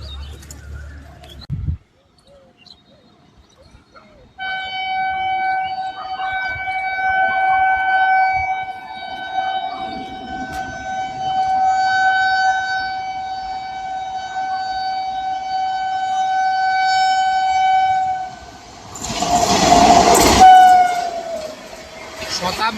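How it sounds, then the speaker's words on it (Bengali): A Shatabdi Express train sounds a long, loud, steady horn for about fifteen seconds. A burst of rushing rail noise follows near the end as it passes close by. "Shatabdi express, Shatabdi express"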